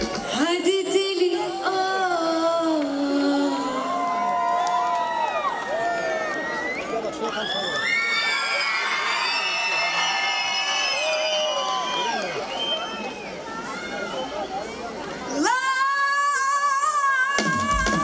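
Roughly 50,000 fans at a singer's first public concert in Cyprus sing her popular songs together in one loud, sustained mass of voices, swelling with cheers and whoops and briefly dropping before surging back at the end.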